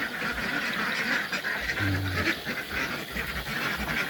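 Ducks on a farm at night give scattered quacks and soft calls over a steady chorus of insects, moderately distant with no talking.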